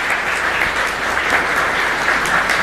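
Congregation applauding at a Catholic Mass in Santa Librada chapel, a steady, dense burst of clapping from many hands that fills the whole stretch without pause.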